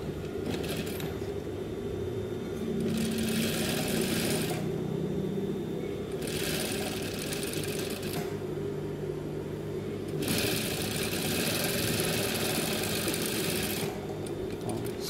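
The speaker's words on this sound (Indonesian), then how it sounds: "lalu kita jahit sebesar setengah senti ya" Sewing machine stitching a jacket pocket, running in several bursts of a few seconds each with short pauses between, a close, steady mechanical whir and needle clatter at moderate loudness.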